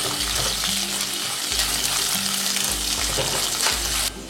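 Chopped ginger and green chilies frying in a pan, a dense close sizzle with periodic low scraping strokes as the pieces are stirred.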